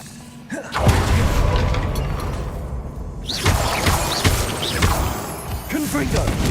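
Bombarda blasting spell in Hogwarts Legacy going off in a cavern, a sharp crashing boom with debris and a swelling rumble, followed by a second burst with whooshing and crackling effects.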